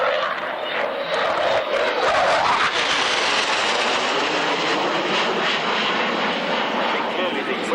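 A fixed-wing aircraft engine roars loud and continuous at the 1994 Woodford Airshow, a broad sustained drone that swells slightly as the plane passes, with no talk heard.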